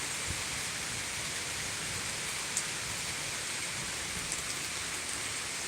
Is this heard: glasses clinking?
no